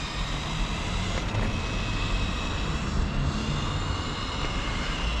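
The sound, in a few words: electric RC Ford Escort rally car driving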